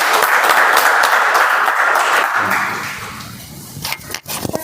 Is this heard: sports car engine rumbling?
no